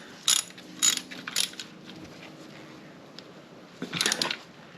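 A wrench tightens the oil drain bolt on a 2024 Yamaha FJR 1300ES motorcycle, with a few quick, close ratchet clicks in short bursts, then a pause and a final burst, fairly quiet.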